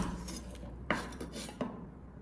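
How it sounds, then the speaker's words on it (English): A knife cutting the tops off chestnuts on a hard surface, giving two distinct clicking knocks about a second apart over a steady background hiss, with no voices. "we're going to cut off the top of each chestnut by placing the flat side down like this."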